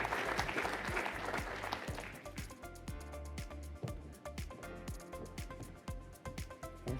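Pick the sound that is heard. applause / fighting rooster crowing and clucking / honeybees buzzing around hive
applause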